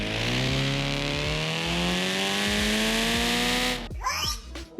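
A tuned Ibishu Yoru car in a driving game revs hard through its modified exhaust, the engine note climbing steadily and loudly before cutting off abruptly into brief skidding and clatter.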